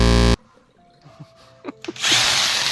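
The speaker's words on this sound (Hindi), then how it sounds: "यह देखिए ड्रिल मशीन से इसको होल को फिर से कर लें ड्रिल" A drill machine bores a hole for fitting a health faucet (shattaf jet spray): a loud burst of drilling at the very start, a quiet stretch with faint clicks, then the drill roars back on steadily until the end.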